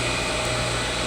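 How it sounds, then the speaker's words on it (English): An agitator motor in a milk tank at an old raw-milk creamery runs with a steady, dense mechanical hum and broadband whir, continuous and close with no pauses. "You can hear that agitator motor is going right now."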